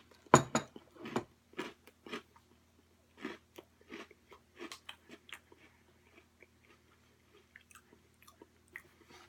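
Close, crisp crunching as someone chews Cap'n Crunch Caramel Popcorn Crunch cereal, a sharp bite followed by irregular bursts of chewing that slowly thin out, with no talking.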